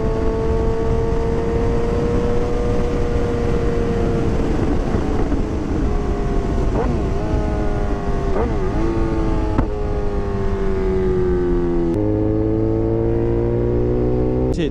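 A 2022 Suzuki GSX-R 750 with a full exhaust and Moore Mafia flash tune, ridden on the road: a loud, continuous engine drone rising and falling, with clear gear changes and renewed pulls toward the end.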